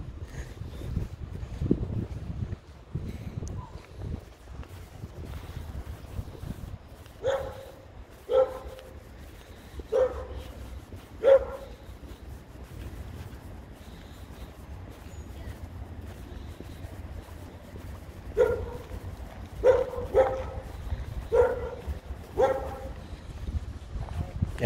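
Several dogs bark in short bursts, twice in clusters of quick yaps, somewhat distant, over a steady low rumble and faint background voices.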